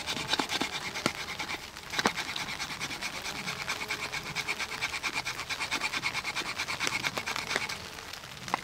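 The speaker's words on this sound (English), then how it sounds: "Scraping." A knife spine scrapes along a ferro rod in repeated short rasping strokes, close and fairly quiet, with a few sharper scratchy hits among the steady scraping.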